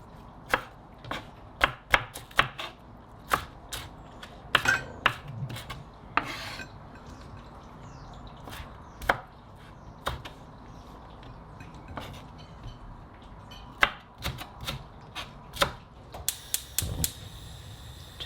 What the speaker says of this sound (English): cut them in long, sort of like a green bean like shape